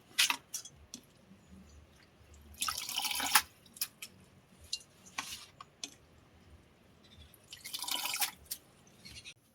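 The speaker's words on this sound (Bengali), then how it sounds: "আবার আর একবার ভালো জল দিয়ে আবার পরিষ্কার" Drumstick leaves are rinsed in water, giving quiet drips and splashes broken by a few louder bursts of sloshing and trickling, close by with no voices.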